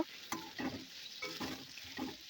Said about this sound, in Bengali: এবার এর মধ্যে দিয়ে দেবো কেটে রাখা আলুটা, দিয়ে হালকা করে নেড়ে চেড়ে নেব।